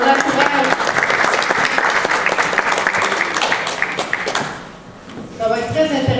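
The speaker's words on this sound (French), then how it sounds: "On l'applaudit et on l'encourage." A church gathering claps in a lively round of applause for a guest speaker, fading out after about four seconds before a voice begins talking.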